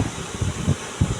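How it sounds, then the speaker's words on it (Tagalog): An electric fan runs steadily in a hot room under a tin roof, giving a soft, constant whir with faint low flutters and bumps close to the microphone. "Kaya electric fan kami kasi parang init dito."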